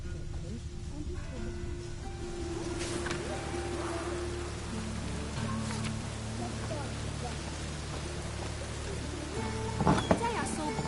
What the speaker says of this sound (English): Didn't look like rain.